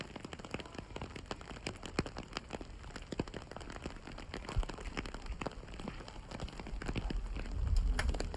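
Rain falls steadily on surfaces around a parking area on a rainy day in Alberta, Canada, a dense patter of drops with sharper scattered hits, continuous throughout and swelling a little louder toward the end.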